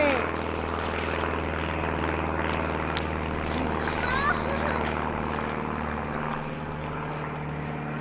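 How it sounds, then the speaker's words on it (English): A propeller airplane drones steadily overhead, a continuous low engine rumble that holds throughout with faint outdoor sounds around it. "Airplane."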